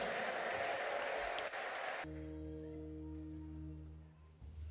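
A church congregation claps in dense, loud applause for about two seconds, then it cuts to sustained keyboard chords.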